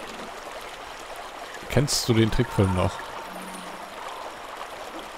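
A river stream in The Isle survival game flows continuously as a soft steady wash in the background, while people speak briefly over it.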